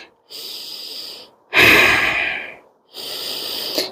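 Quick, heavy breaths after a cardio yoga bootcamp interval: three loud airy exhalations with short gaps between them, close up, each sustained and breathy with no talking.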